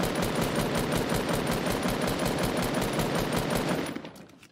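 Sustained rapid automatic fire in a video game rattles close and loud in an even, fast rhythm for about four seconds, then cuts off and fades.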